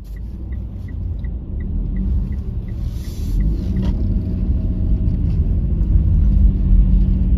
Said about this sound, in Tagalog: Daming mga sasakyan.